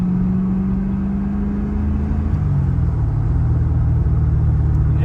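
A 1993 Corvette Callaway Supernatural 450 cruises along, its engine a steady, loud low drone with a note that drops as it shifts, over continuous road rumble.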